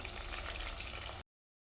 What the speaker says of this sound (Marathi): तेलामध्ये छान फ्राय करायचं, हे असा कलर चेंज झाला पाहिजे त्याचा।